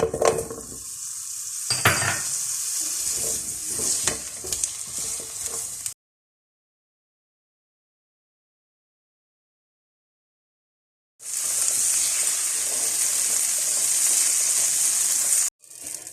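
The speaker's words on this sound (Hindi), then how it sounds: "अब मैं इसी तरह बाकी भी तमाम वेजिटेबल्स को फ्राई कर लेती हूँ।" Vegetables frying and being stirred in an oiled pan for a vegetable qorma, with a steady close sizzle and occasional clinks of the utensil, broken by a stretch of silence before the sizzling resumes.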